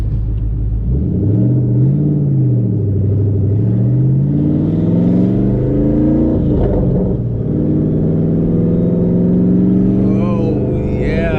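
Twin turbo Boss 302 Mustang engine heard from inside while driving, a loud, deep rumble whose pitch swings up and down with throttle and gear changes, continuous throughout with faint turbo whistles near the end.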